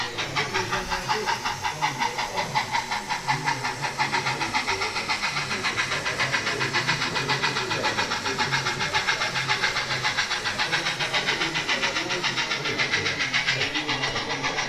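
A model railway locomotive crosses a timber bridge at a model railway exhibition, producing a steady, rhythmic clatter and mechanical whir that runs continuously at moderate loudness without a break.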